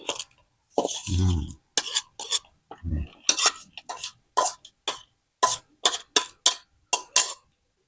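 Field crabs pounded in a mortar for a northern Thai papaya and makok salad, giving a run of sharp, irregular thuds and wet knocks close by, with a few coughs in between.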